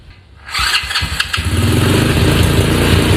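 A $300 four-wheeler ATV, previously non-running, cranks and starts after a short quiet moment, then settles into a loud, rough, steady idle close by, with no voices.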